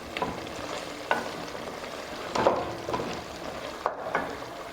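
Potatoes frying in a pan with roasted mutton added, a steady sizzle broken by several sharp stirring scrapes and clinks, moderately loud and close, with no talking.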